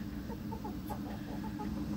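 Chickens cluck softly at a chicken house, a few short scattered calls over a steady low background hum.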